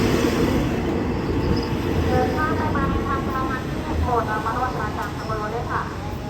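Freight train number 985 arriving at Bang Sue Junction station, a loud steady rumble of rolling wagons with rhythmic wheel clatter, close by and continuous.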